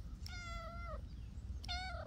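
A cat gives two clear, close meows, each a drawn-out tonal call with a short pause between them, over a quiet indoor background.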